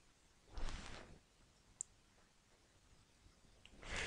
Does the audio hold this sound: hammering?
no